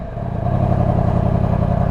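A 2018 Yamaha R1 motorcycle revs its exhaust. The engine note swells from idle into a loud, steady, throaty pulsing drone heard close up, with no talking.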